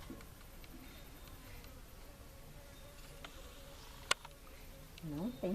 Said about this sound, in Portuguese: Eu tô ouvindo é mosquito.